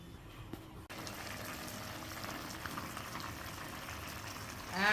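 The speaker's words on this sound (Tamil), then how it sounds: "கொதிக்க ஆரம்பிச்சிச்சுமா?" Potato and cabbage kurma boiling in a pot gives a steady, close bubbling hiss that runs almost the whole time after a brief quieter moment at the start, swelling louder right at the end.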